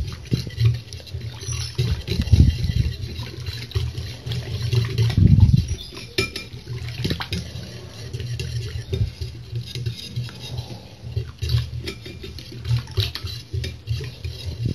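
Warm water is poured into homemade traditional yeast and mixed by hand, giving close, uneven wet sloshing and squelching pats with small splashes throughout.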